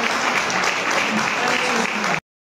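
An audience claps in steady, dense applause that stays loud for a couple of seconds and then cuts off abruptly.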